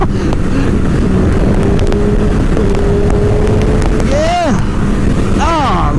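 A motorcycle engine revs while being ridden, loud and close, with heavy wind buffeting the microphone and a couple of rising, whining throttle bursts near the end.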